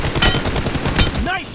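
Gunfire in the mobile battle game PUBG Mobile during a fast team deathmatch, a loud close burst of rapid automatic shots that briefly overlaps game voice lines.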